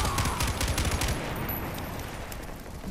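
Gunfire in Far Cry 4 aimed at the player, rapid bursts of shots rattling off in quick succession, loud and close at first, then thinning out toward the end.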